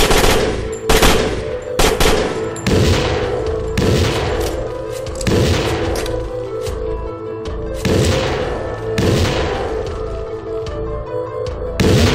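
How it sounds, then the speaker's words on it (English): Repeated grenade explosions and bursts of gunfire from a video game, loud booming blasts landing every second or so over steady rattling shots, with no talking. "All them explosions are grenades."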